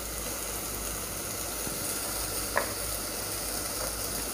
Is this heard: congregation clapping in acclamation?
no